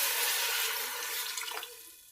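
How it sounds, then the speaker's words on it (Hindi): Water pours into a pot of pulao with chickpeas and rice, a steady close splashing stream that trails off into a few brief spatters near the end, with no voices. "और अब मैं इसमें पानी शामिल करूँगी।"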